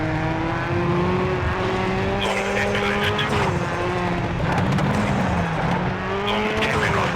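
A rally car tears along a stage in the video game WRC 3, its engine droning and shifting pitch continuously up close, with bursts of gravel spray and tire scrabble.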